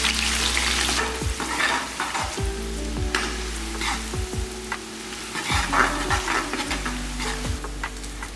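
Sliced onions and whole spices tempering in hot oil in a pressure cooker for mutton biryani, a loud continuous close sizzle with a spatula scraping and stirring throughout.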